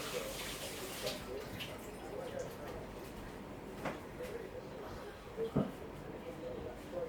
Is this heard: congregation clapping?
no